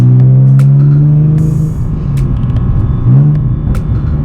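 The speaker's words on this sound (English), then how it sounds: "I love how when my car pops" Modified Z car's engine revving hard close by, with a steady low roar, a deep rev climb near the middle and sharp crackling exhaust pops scattered throughout, heard alone.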